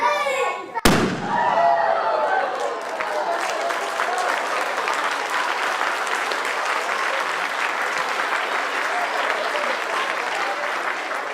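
A balloon is lit during a university science festival show and bursts with one sharp, loud bang, followed at once by sustained, enthusiastic applause and cheering from a large audience that continues to the end.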